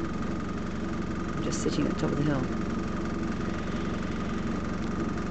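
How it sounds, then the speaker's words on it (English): A van engine idles with a steady low rumble and vibration throughout, while someone talks over it up close. "Sorry about the noise, it's the van."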